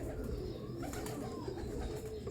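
Pigeons coo softly over a steady low background, a few birds at close range with repeated throaty calls running continuously.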